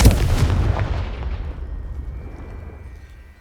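Confringo blasting spell cast in Hogwarts Legacy on PS5, a loud close explosive burst at the start that rolls off into a fading rumble over a few seconds.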